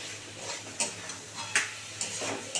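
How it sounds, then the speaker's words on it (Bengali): Spices being stirred and fried with elephant foot yam and coconut in a pan, soft sizzling under repeated scraping strokes of a spatula, about five distinct scrapes in a few seconds. "মশলাটা দিয়ে বন্ধুরা একটু ভালো করে কষাবো"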